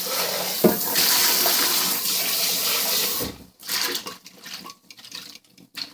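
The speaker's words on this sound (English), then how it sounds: "now what I'm going to do is I'm going to rinse out my blender real quick" Water from a tap runs steadily and splashes into an Oster Pro 1200 blender jar as it is rinsed for a few seconds, then stops, leaving a few drips and clatters.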